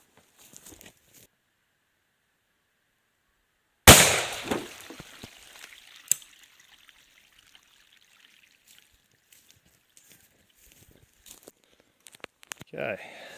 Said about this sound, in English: 3-inch Magnum time.